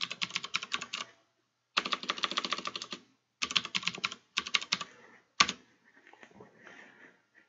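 A password being typed on a computer keyboard while setting up a Raspberry Pi web server: close, crisp bursts of rapid keystrokes separated by short pauses, ending with a single sharp key press and faint handling.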